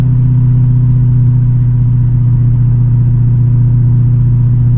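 BMW E39 540i with a 6-speed manual and 3.15 rear differential under steady load, a loud, continuous low engine drone holding an even pitch throughout, heard from inside the car.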